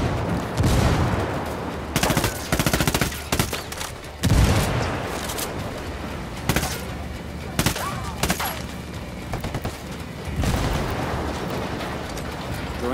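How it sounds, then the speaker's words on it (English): Bursts of gunfire in Ghost Recon Wildlands: rapid automatic volleys and single shots crack out in clusters across the stretch, loud and close, with battle noise between them. "I'm shooting these fuckers."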